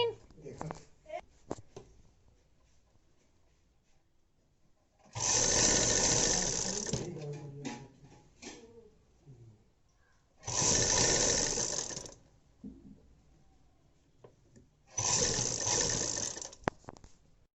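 A sewing machine stitches box pleats on a long skirt in three steady bursts of whirring run, each a couple of seconds long, separated by quieter handling noise and faint talk.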